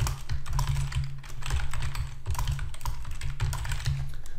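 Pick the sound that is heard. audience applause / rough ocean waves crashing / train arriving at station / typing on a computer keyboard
typing on a computer keyboard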